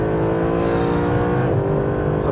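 Mercedes SLS AMG Black Series V8 engine droning hard under throttle through a long slide, a rich steady harmonic roar close up with slight rises and dips in pitch.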